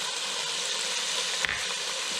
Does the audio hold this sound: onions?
yes